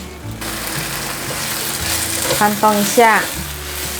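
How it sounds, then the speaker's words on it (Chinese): Strips of tofu skin fry in a little olive oil in a pan, a steady close sizzle that swells briefly near the end as they are stirred, with a brief spoken remark. "把豆包炒至焦黄色，先让它慢慢煎"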